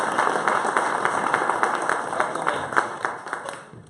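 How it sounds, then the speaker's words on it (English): Audience applause at an augmented reality meetup, a steady wash of many hands clapping for about four seconds that thins out toward the end. "Big round of applause for Ty."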